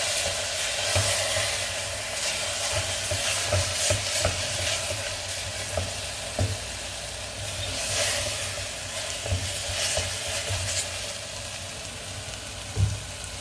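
Mushrooms and spices sizzle steadily in a hot pan while a utensil stirs and scrapes now and then, close up with no talking.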